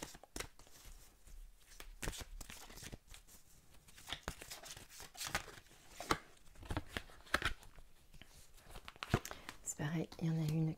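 Oracle cards being shuffled by hand, a run of quick papery riffles and slaps in close, quiet succession, with soft speech in places.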